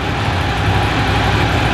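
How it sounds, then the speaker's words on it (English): Air and oil cooled 750cc V-twin engine of a 750 SS motorcycle runs with a steady, loud, low rumble close by and no talk over it. "the 750 SS basically utilises that classic air and oil cooled V-twin engine"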